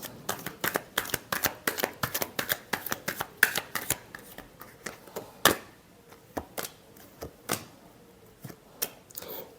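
A deck of tarot cards is shuffled by hand close up, giving a fast run of crisp riffling bursts that slows to a few spaced flicks and taps near the end, with no talk.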